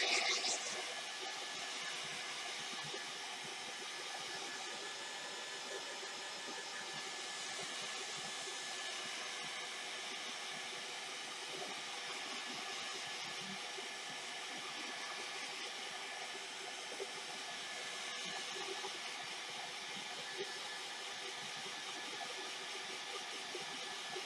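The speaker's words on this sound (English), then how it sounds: "I'm going to use my hairdryer because that's the handiest thing to me." A hairdryer blows steadily on a drying watercolor painting, a constant broadband whoosh that holds at an even level, fairly close, throughout the clip with no talking.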